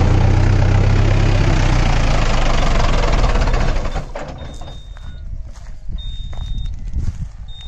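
A poorly performing tractor engine idles with a low, rumbling, knocking chug that drops quieter partway through, with faint beeping tones later on.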